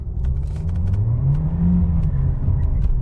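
Volkswagen Passat accelerating hard through city streets, a loud close engine rumble whose pitch climbs steadily as the revs rise, with tire and road noise beneath and no talking.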